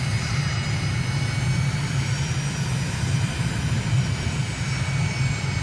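A steady aircraft engine drones in Microsoft Flight Simulator, a constant low hum with a faint high whine holding at an even level throughout, close and unbroken, with no talking.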